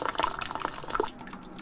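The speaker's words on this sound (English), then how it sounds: "So we're gonna drain out the water, let it cool down" Water draining from a McDonnell & Miller boiler low water cutoff, a close, continuous gurgling trickle with fluttering drips that eases off near the end.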